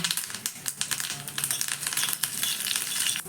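Dried red chilies and curry leaves sizzle and crackle in hot oil in a pan, a dense steady frying hiss with scattered sharp pops and spatters, close by with no voices.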